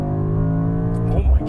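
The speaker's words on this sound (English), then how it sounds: "I'm just going to floor it. I am in race mode." A 2024 Mercedes-AMG GT63 S four-door coupe with a nine-speed automatic in race mode is floored at full throttle, its steady engine drone rising into a louder, deeper surge near the end, with no talk.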